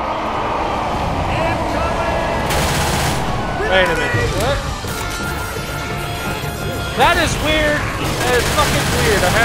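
Gunfire rattles in a co-op video game under constant shouting players and engine-like rumble, with bursts of shots and sharp whistling sweeps cutting through the loud, busy mix.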